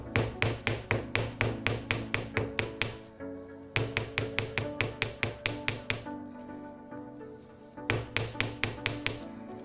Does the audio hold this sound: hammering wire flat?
yes